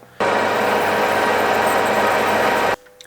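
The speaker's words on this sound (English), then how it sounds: "Just going to bore it out and tap the thread for the sump plug into it." Machining an aluminium sump plug part, boring it out and tapping a thread: a steady, loud, unbroken mechanical whir of a machine tool running alone for about two and a half seconds, starting and stopping abruptly.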